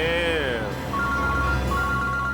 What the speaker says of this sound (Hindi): ये मेरा ही फोन है सर